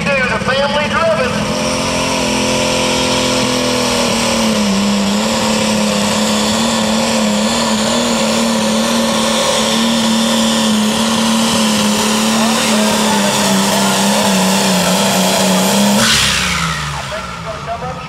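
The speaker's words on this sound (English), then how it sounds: "See what that tractor's doing." Light limited super stock pulling tractors roar at a tractor pull in Danville, Kentucky, with one engine's loud, sustained drone holding steady and then fading at the end, while an announcer talks over it.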